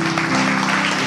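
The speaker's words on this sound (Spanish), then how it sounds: "¿Qué les parece si damos un aplauso al Señor?" Applause from a church congregation in a Spanish-language sermon: a dense, brief burst of many hands clapping together, loud and close, with a steady hum underneath.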